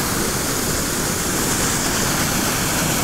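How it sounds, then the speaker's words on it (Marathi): Water from the Bhima river pours over a small weir in a loud, constant broadband roar, with no break or variation. "या ठिकाणी अशा प्रकारे पाणी वाहतंय।"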